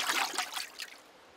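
Clove oil being stirred into water in a fish bucket, a brief swishing trickle of water that fades out quickly, close and fairly quiet.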